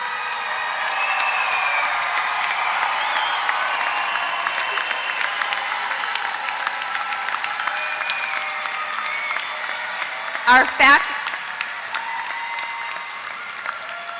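Commencement audience applauding graduates' families, a long, even roar of many hands clapping in a large hall, with a couple of sharp, louder knocks near the end.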